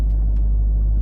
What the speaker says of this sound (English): it's trying to raise the vehicle